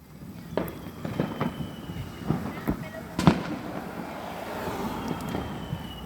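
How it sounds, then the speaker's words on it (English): Fireworks pop and crack outdoors in scattered, irregular bursts at some distance, one sharper bang standing out, over a wash of wind and background noise. "There's fireworks all over the place."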